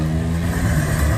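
A motorbike engine revs loudly and continuously during wheelies and burnouts at a crowded bike meeting, a dense close roar with a rising low pitch that cuts off abruptly.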